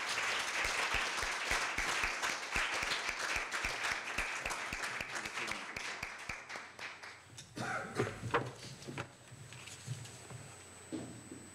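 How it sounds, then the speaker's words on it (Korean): An audience at a Korea University evening event claps to welcome a professor, a steady patter of hands that thins out partway through into scattered claps and faint room noise. "김재환 교수님을 큰 박수로 맞이해 주시기 바랍니다"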